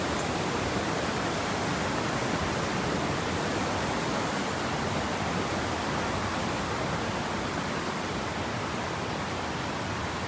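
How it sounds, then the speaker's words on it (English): Roaring waterfall at Old Mill Park in Roswell, a steady, loud, dense wash of falling water that fills the whole clip without a break, close by and unvarying, with no voices over it. "despite the roaring water, it is pretty nice"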